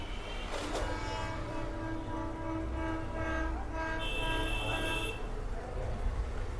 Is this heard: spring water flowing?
no